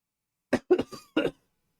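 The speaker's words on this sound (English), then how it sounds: "coughing does not help" Several short, harsh coughs in a quick cluster, close and fairly loud, with silence before and after.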